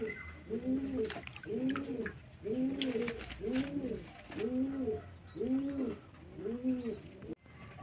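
A pigeon held in hand and others nearby give steady, evenly spaced coos, about seven in a row, close and clear over a soft background hiss.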